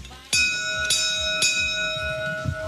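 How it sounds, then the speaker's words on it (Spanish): A railway station bell is struck three times in quick succession, each loud, clanging hit leaving a bright ringing tone that hangs on between strikes, with no talk. "eso es una campana de estación, por eso suena tan fuerte"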